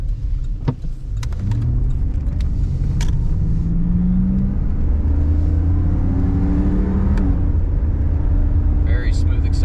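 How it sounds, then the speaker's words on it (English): A 1989 Lincoln Mark VII LSC with the 5.0 HO V8 accelerating on the road, heard from inside as a smooth, steady engine rumble with rising pitch and road noise, with a few faint clicks at the start. "We'll give it a little gas here."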